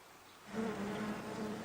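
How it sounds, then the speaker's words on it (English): A swarm of bees buzzes around a fallen maple tree that crushed three cars, a faint steady drone that swells after a brief quiet start and holds a sustained hum. "did I forget to mention the swarm of bees?"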